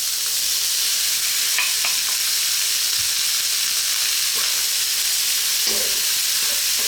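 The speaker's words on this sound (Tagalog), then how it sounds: "Haluin lang natin sandali." Cooked rice, sweet corn and pork stirred in a hot frying pan for Filipino fried rice make a loud, steady sizzling hiss up close, broken by a few scraping spatula strokes, with no voices.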